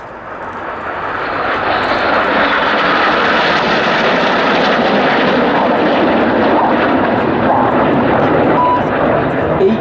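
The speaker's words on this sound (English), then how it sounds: "Each of the pilots there in the Revolution flying an aileron roll manoeuvre" Red Arrows jets flying an aileron roll at an RAF Waddington display, a broad roar swelling in over a couple of seconds and holding loud and steady as the formation passes, with commentary running over it.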